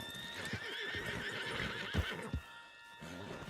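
A horse in Red Dead Redemption 2 whinnies loudly over clip-clopping hooves, with a rising neigh up close followed by a few heavier hoof thuds as it settles.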